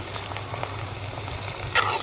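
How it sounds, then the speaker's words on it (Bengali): Soaked dried fish (lote shutki) frying with onions in a hot pan, giving a steady, close sizzle with small crackles and a brief louder spit near the end, no talking. "এটা ভালো করে পেঁয়াজের সাথে ভেজে নেব"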